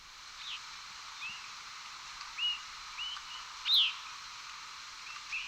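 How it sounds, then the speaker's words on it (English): Faint, distant birds high overhead give scattered short chirps and tweets at irregular intervals over a quiet outdoor hush on an April night in New York. "you will notice a distant, steady flow of birds chirping above you"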